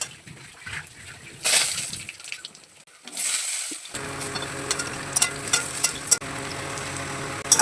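Papaya pieces cooking in oil in a pot for a pumpkin leaf dish, with a bright sizzle bursting at the start and then a steady, moderate frying crackle and faint stirring, no talk.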